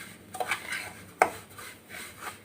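A spoon scraping and clinking against a pan while kunafa pastry is stirred and turned toward golden brown, soft irregular scrapes with one sharper knock, no voices.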